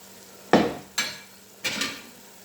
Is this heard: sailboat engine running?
no